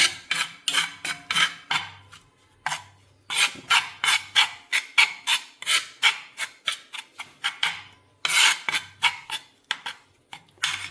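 Hair dye paste being stirred in a bowl, a close, rhythmic run of short scraping and rasping strokes repeating steadily with brief pauses between bursts, no talk over it.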